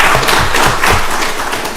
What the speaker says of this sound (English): Give Commissioner Washington a round of applause.